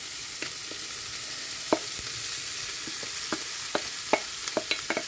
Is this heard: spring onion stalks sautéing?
yes